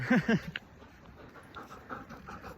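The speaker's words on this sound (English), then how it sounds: "He's a very happy dog." Friendly, happy dog encountered on a walk pants in quick rhythmic breaths, with a couple of short whimpers at the start, close and moderately loud over faint outdoor background.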